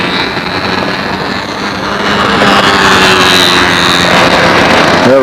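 Radio-controlled model airplane engine running outdoors at a windy fall flying contest, a steady buzzing drone that grows louder and nearer partway through, with wind noise throughout.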